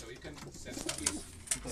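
Racing pigeon breeders in a loft coo softly while someone speaks over them, with a few brief sharp bird notes poking through near the end.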